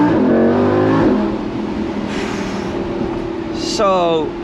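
Lamborghini Huracan Spyder engine pulling hard out of a corner, a loud, steady high-revving drone heard from inside the car, with a brief rising whine near the end.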